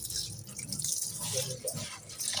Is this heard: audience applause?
no